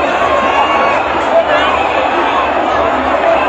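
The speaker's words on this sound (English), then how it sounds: "A mass gathering of supporters of the governing CDC." A large crowd of ruling-party supporters fills a rally in Monrovia, Liberia, a dense loud roar of voices and movement that holds steady, with speech running over it.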